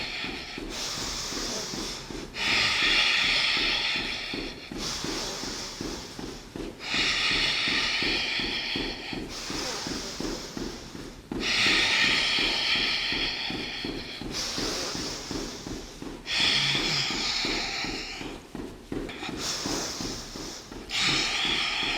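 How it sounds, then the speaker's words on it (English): Forceful nose breathing during a beginner rebounder lower-body workout at home, with loud hissing inhales and exhales in regular cycles of a few seconds over a steady rhythmic bouncing pulse. "Nose breathing."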